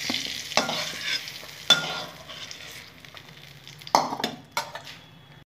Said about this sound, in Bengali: ভাজা হয়ে গেছে, বেগুনগুলো তুলে নিলাম।